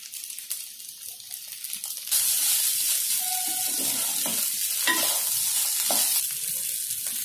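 Mushroom fried rice is stir-fried in a hot pan, starting with a few quiet scrapes before breaking into loud, steady sizzling broken by repeated stirring and scraping strokes, with no talking.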